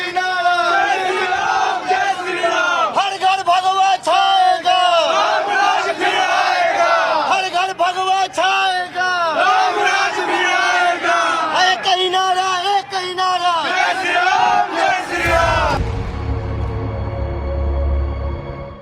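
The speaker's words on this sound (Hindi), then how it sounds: "पहले से उनके इंतजार में हजारों की तादाद में श्रद्धालु मौजूद थे।" Thousands of devotees outside Hotel Palash raise a loud, continuous chorus of rhythmic chanting and cheering, close and dense, before it cuts to a low rumbling background.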